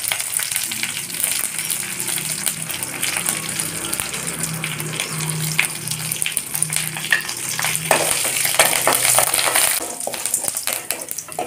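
Four red chilies frying in hot oil: a loud, steady sizzle close up, with the crackle rising near the end and occasional stirring scrapes.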